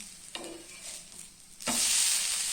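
An amboli, a rice pancake, fries on a pan, first a quiet sizzle and a scrape, then a sudden louder, steady hiss as it is turned or oil is added.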